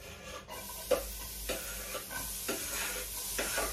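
Onions sautéing in a pan for pancit canton, stirred with repeated scraping strokes about every half second over a soft steady sizzle, close up and without talk.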